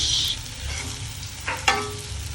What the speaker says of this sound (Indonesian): Hati-hati mengaduk-aduknya karena bentuknya memanjang, otomatis akan rentan putus